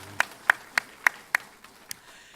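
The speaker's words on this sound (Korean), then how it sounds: "다시 한번 하나님께 영광의 박수 올리겠습니다" Short bursts of clapping from a church congregation at a Sunday morning service, about six sharp claps in an even rhythm that fade out, close and fairly quiet, with no talk over them.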